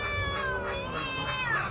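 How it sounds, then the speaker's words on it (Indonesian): A white cat begging for food lets out a sustained, wavering meow, close and fairly loud, with faint background noise and no clear talk. "Ini si welang asem putih masih mengeong mengharapkan"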